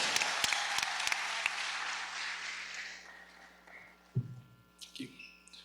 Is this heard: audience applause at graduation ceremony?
yes